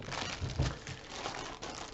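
A small sealed plastic bag holding Shin Godzilla gashapon figures is crinkled and handled up close, giving a quiet, brief run of crackling rustles.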